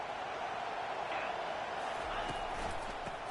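A stadium crowd in College Football 25 roars as a steady, dense wash of noise that holds throughout, with a commentator's voice over the top.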